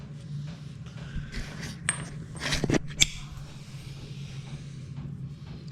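A socket wrench with a custom adapter kit turns a bolt on a diesel motorcycle build, giving soft metallic ratchet clicks and a few sharp clinks over a low steady hum, fairly close and quiet.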